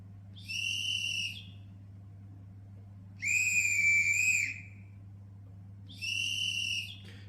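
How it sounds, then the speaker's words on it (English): A railway guard's whistle on a model train sound decoder sounds three shrill blasts: short, then longer, then short again, each clear and alone against a quiet low hum. "Good old fashioned guards whistle"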